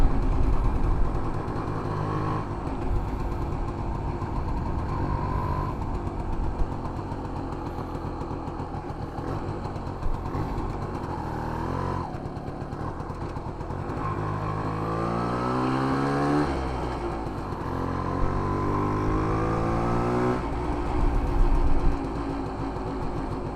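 A 1968 Montgomery Ward Riverside motorcycle, a barn find, runs steadily while ridden on a back road, its engine droning loud and close and rising and falling in pitch through several throttle changes, with no talking.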